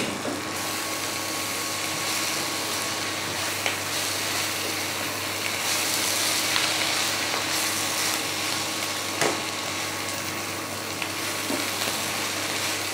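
Moringa greens frying in a pan and being stirred, a loud dense continuous sizzle with faint scraping of the spoon mixed in, close and steady throughout; no voices.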